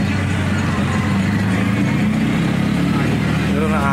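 Steady roar of highway traffic with engines of passing cars, motorcycles and trucks, loud and continuous, with a voice talking over it.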